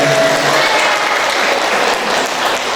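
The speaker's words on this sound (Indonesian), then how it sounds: "Tepuk tangan buat saya." An audience claps loudly and steadily the whole time at a motivational talk, a dense and continuous round of applause with no voice rising above it.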